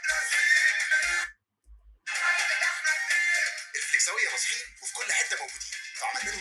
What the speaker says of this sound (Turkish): Bak at sesi vermişler.